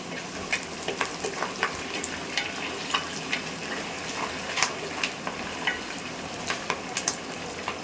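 Onions and curry leaves sautéing in a clay pot for fish curry, a soft continuous sizzle broken by repeated light scraping and stirring taps from a spoon, close and moderately quiet.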